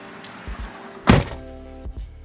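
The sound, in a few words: closing the door of a 2018 Toyota RAV4 car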